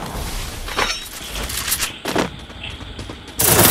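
Gunfire in a battle-royale ranked video game during a headshot kill, several sharp shots and bursts over game ambience, with one loud burst at the end.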